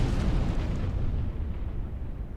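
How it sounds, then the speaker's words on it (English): Explosions from the Star Trek Online space game: a dense, continuous low rumble of blasts and booms, loud and sustained with no distinct separate hits and no talk. "There's like explosions everywhere."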